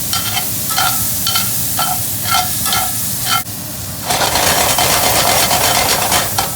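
Vegetables sauté in a hot pan for a steak sandwich, a steady close sizzle broken by repeated scraping strokes of stirring, the frying hiss swelling louder near the end.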